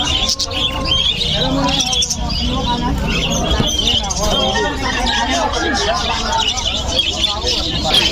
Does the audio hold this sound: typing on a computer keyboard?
no